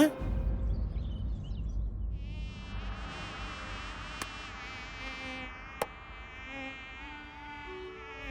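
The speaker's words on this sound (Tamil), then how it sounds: "இங்க இருக்கு கொசு உள்ள வந்துருச்சு" A mosquito buzzes indoors in a Tamil comedy episode, a thin, high, wavering whine that drifts closer and louder partway through, sustained over a low background murmur with two sharp clicks.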